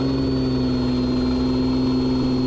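The engine of a Piper Comanche 250 runs at full takeoff power, a loud, steady drone with a strong tonal hum that carries on without a break throughout.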